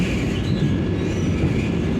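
A Vande Bharat express between Secunderabad and Tirupati runs at speed out of Guntur, giving a loud, steady rumble of wheels and carriage with faint rhythmic clatter throughout, no voices.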